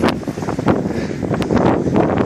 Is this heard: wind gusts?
yes